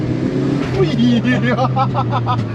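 A Honda Civic EG with street suspension drives along, its engine humming in a steady low drone that rises slightly as it pulls, heard from inside the car while people talk and exclaim over it.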